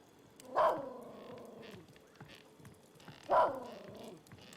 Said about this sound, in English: Wait, there is a dog.